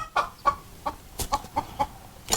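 A neighbour's noisy chicken clucks in a quick series of sharp, repeated calls, about eight evenly spaced clucks, fairly close and clear without talk.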